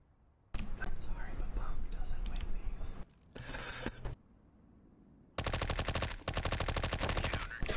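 Suppressed MP5-SD fire in CS:GO, with rapid bursts of muffled rattling shots in several runs and a long sustained burst near the end; a quiet voice speaks in the pauses.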